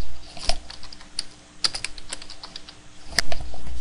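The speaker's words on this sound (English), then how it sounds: "Let's just type in shutdown." Quick keystrokes on a computer keyboard, close and fairly loud, in uneven bursts of clicks with a few sharper taps, no voices.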